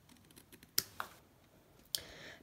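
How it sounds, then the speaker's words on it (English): Scissors trimming the edges of a craft card, a few crisp snips and clicks close by, quiet and isolated against a faint background. "Make sure it's straight, and then just trim off the edges."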